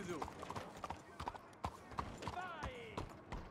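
Rhythmic clip-clop of horse hooves trotting along steadily in Red Dead Redemption 2, with a person talking over them and a brief whinny-like sound near the end.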